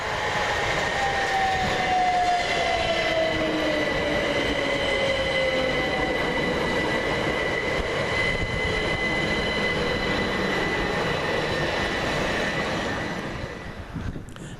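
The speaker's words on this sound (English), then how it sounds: "Next into the station is 377101, working the 1256 Southern service from Brighton to Littlehampton." A Southern class 377 electric train, unit 377101, running into Southwick station on a Brighton to Littlehampton service, loud and close throughout, with steady rail rumble, a long descending whine, and high wheel and brake squeal before easing off at the end.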